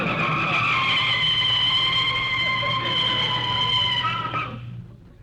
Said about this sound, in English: You can start putting on the brakes.